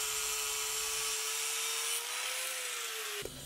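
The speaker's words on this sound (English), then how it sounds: "I'll use a carbide end mill to mill the hard steel." A carbide end mill cuts a hardened carbon steel Allen key held in a dividing head on a milling machine, giving a steady, close high-pitched whine with a sustained tone that shifts slightly before stopping abruptly.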